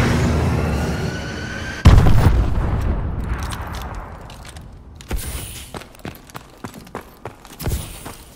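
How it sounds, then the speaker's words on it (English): Missile strikes in Call of Duty: Advanced Warfare, on the Riot map in team deathmatch, land as a heavy boom with a long rumbling decay, followed by a run of sharp gunfire-like cracks and thuds, loud and close. "Friendly missile strikes inbound."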